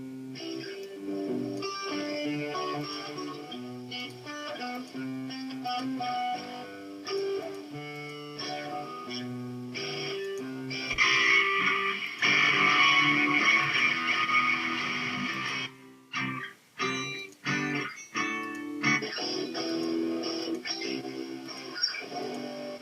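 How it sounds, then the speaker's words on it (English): Acoustic guitar run through a GarageBand overdrive effect plays strummed chords and single notes, steady and close, with a few brief pauses near the end. "Let's try overdrive."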